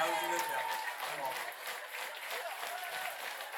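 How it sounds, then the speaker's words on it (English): Audience at a ballroom runway competition claps steadily for a walker, a continuous wash of applause with voices mixed in throughout. "Et Applaudissez pour elle."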